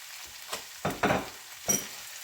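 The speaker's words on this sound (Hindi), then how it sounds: "मिक्स करके इसमें मैं एक बड़े साइज का टमाटर था वो मैं डालूंगी" Chopped tomato tipped into hot oil with ginger garlic paste for a fish curry, giving a few bursts of sizzling and stirring scrapes over a soft frying hiss.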